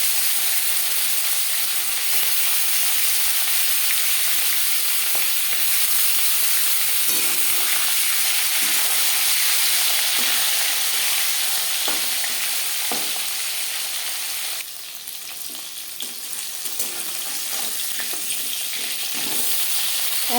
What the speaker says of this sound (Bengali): 4 চামচ রিফাইন্ড অয়েল গরম করে নিয়েছি। এবার দিয়ে দেব মাছ।